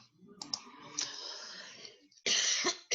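A few harsh coughs and throat-clearing bursts, close by, with short quiet gaps between them.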